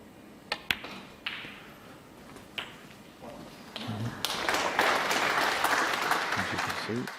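A packed Barbican crowd at a UK Snooker Championship match: scattered sharp taps and clacks give way to swelling applause in the second half, with a commentator's voice running over it.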